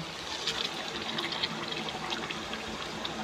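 Hot water poured into a pot of chicken kosha curry with potatoes, a continuous close splashing gush lasting a few seconds at moderate volume.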